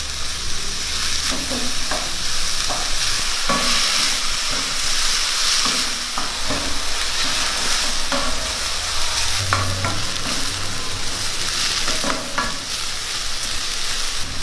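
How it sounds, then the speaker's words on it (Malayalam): Chopped onions sautéing in hot oil with whole spices for Kerala-style egg roast, a continuous loud sizzle close up, broken by repeated stirring scrapes of a spoon in the pan. "നമുക്ക് നല്ലപോലെ ഒന്ന് വഴറ്റി കൊടുക്കാം."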